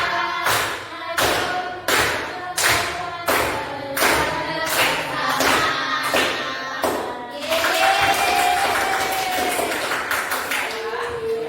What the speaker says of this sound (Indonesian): tepuk jari dua, tepuk jari tiga, tepuk jari empat, tepuk jari lima